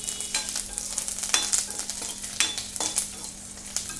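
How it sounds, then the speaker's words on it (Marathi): Garlic cloves fry in a pan for a potato puri chutney, giving off a steady, close sizzling hiss broken by several sharp scraping stirs. No one speaks. "आठ ते 10 लसणाच्या पाकळ्या टाकून थोडंसं मिक्स करायचं"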